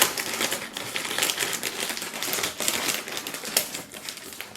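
Scissors snip and work through a crinkly packet of Irish crisps, giving a steady, close rustle of crackling plastic with small clicks and no talking.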